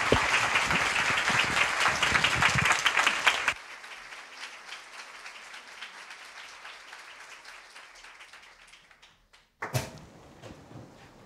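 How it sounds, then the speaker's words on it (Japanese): Church audience at a Japanese conference session gives a loud, dense round of applause that cuts off abruptly after about three and a half seconds. Quiet room noise follows, then a brief louder burst near the end. "Let us give them a round of applause."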